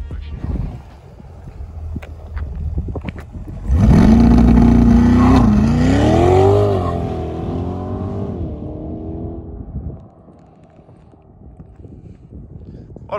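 A mid-engined Chevrolet Corvette C8 revs hard and accelerates, its engine note roaring up loudly, dipping and climbing again before easing off, with faint talk and background noise before and after.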